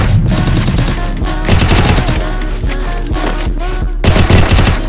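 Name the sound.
gunfire in the video game Free Fire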